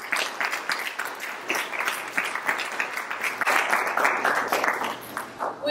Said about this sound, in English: let's have a round of applause for all of our panelists